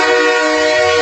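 A loud, sustained train horn blast sounds as a single steady tone, close and unbroken for about a second.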